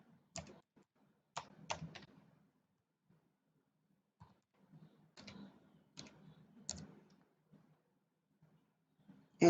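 Login details are typed on a computer keyboard in short clusters of sharp, close clicks separated by quiet pauses, with a final louder keystroke at the end.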